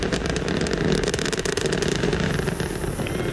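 Space Shuttle Challenger's engines roar during the STS-7 launch as they throttle down to 75 percent, a dense, continuous rumble filling the sound with no voices.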